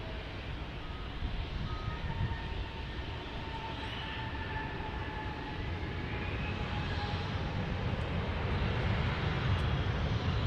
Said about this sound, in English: So there's the Frontier A320 arriving.